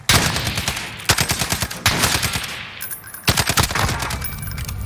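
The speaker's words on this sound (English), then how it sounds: "Ooh, nice shooting." SCAR rifle fire in Modern Warfare, several loud close bursts of rapid automatic shots separated by short pauses, with no talk over the gunfire.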